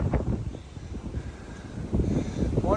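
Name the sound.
wind on mountain top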